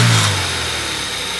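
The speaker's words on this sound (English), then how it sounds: "That's a power VTEC right there." A Honda Civic VTEC engine revs hard and loud close by, a sustained high roar that holds steady before cutting off abruptly at the end.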